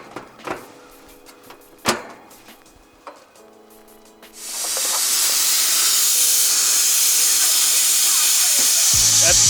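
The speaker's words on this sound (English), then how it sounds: "Now we're letting all the pressure out so we can evacuate the system." Pressure-tested line set of an air handler installation is vented, a few clicks and clanks giving way to a loud, sustained hiss of escaping gas that continues to the end.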